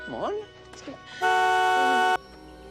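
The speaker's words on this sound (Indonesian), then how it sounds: "langsung menekan klakson mobil yang bertujuan agar kedua orang" A car horn blasts once in a sustained, loud, flat tone lasting about a second, with a brief voice-like sound just before it.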